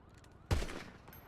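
A single gunshot in Grand Theft Auto V, with a sharp attack that decays quickly.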